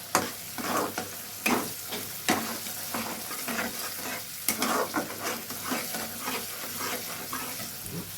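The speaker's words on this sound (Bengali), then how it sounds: "এখন কিন্তু আমি কড়াইশুঁটিটা এর সাথে মিশিয়ে দিলাম।" Green peas are stirred into khichuri frying in a kadai, with uneven scraping strokes of a spoon across the pan over a continuous close sizzle.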